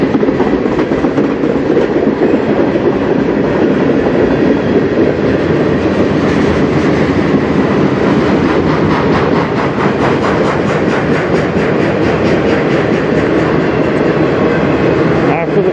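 A CN freight train rolls past close by, loud and continuous, its wheels keeping up a steady clickety-clack rhythm over rumbling rail noise while someone talks.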